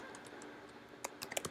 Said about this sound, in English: So the next thing I'm going to do is add text to my text box by typing